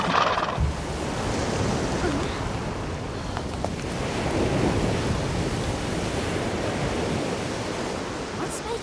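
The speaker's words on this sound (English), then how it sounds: "What's making those waves?" Steady broadband roar of ocean waves and surf in an animated fantasy seascape, continuous and fairly loud throughout with no distinct breaks, a brief thump near the start.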